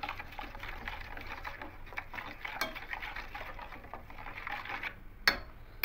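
Mustard paste is worked together with salt in a bowl, giving soft scraping and stirring sounds with a few light utensil clinks and one sharper tap near the end, close and fairly quiet.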